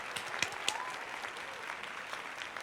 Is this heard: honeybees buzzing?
no